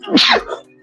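A single sharp sneeze, loud and close, a quick burst with a brief breathy tail.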